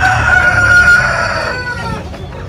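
A rooster crows loudly and close, one long call, among backyard chickens kept beside a house. Softer clucking and other fowl sounds fill the background.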